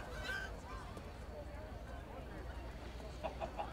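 Chickens cluck and squawk in the Minecraft Story Mode video game, a few honking calls mixed into a busy background of game sound and talk, loudest near the start and end.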